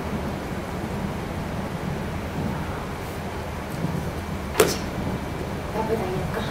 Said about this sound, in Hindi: बारिश भी बहुत तेज है